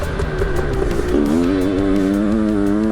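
A fuel-injected 500cc two-stroke Husqvarna dirt bike with a BRC motor rides past loud and close, its raspy engine climbing in pitch as it accelerates, revs swelling and wavering through the throttle with no talk.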